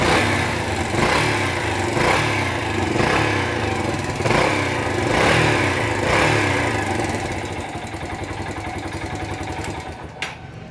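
A Yamaha YBR motorcycle with a current misfiring problem runs after spark plug adjustment, its single-cylinder engine chugging loudly and close with a pulsing, slightly uneven beat that settles into a faster idle.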